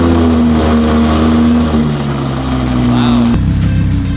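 A car engine revs through a third exhaust, a loud, steady droning hum that holds at one pitch before dropping abruptly near the end, with a brief voice underneath.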